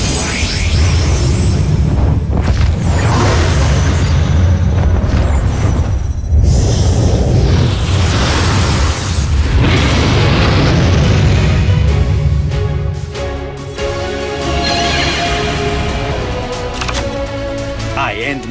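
Blue-Eyes White Dragon's attack explosion in the Yu-Gi-Oh! Duel Links video game, a loud sustained roaring boom with whooshing bursts that swell and fade over several seconds, mixed with game music and effects.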